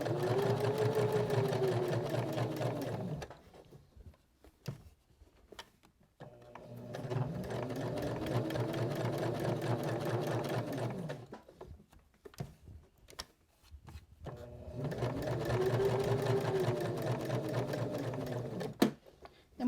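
A sewing machine runs top stitching on a fabric pocket hug in three steady bursts, each lasting several seconds, with short pauses between them for lifting and turning at the corners.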